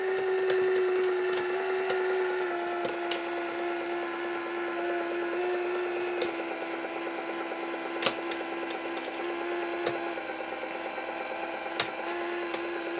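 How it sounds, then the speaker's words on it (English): A FilaWinder filament winder motor runs steadily with a constant tonal whine and mechanical hum, close and alone, with faint periodic clicks every couple of seconds. "So now I'll switch on the FilaWinder motor."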